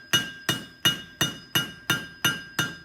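A blacksmith's hammer strikes hot steel while chamfering the edges of a forged traditional bottle opener: eight steady, evenly spaced blows with a bright ringing anvil tone, close and loud, with no talking.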